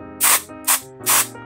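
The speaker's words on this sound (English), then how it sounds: "Now it sprays on like a mist," Axe Phoenix body spray hisses out of an aerosol can in three short close bursts, the first and last longer, a quick puff between them.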